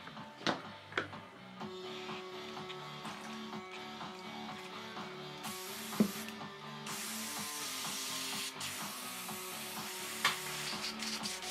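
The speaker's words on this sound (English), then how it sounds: "I always make sure this airbrush is clean because this is my good one" An airbrush sprays paint in a steady, faint hiss that runs through much of the clip, with a few small clicks and handling noises around it and no talk.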